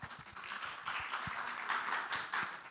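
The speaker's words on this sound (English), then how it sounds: "Please give her a clap." Audience clapping at an evening church youth service as a hospital health educator comes forward, a steady spread of many hands at moderate level for a few seconds.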